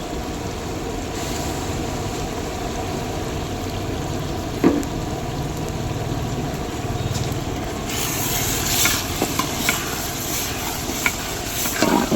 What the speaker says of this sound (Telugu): మొత్తం తిప్పుతూ ఉండాలి బాగా ఎందుకంటే అడుగట్టకుండా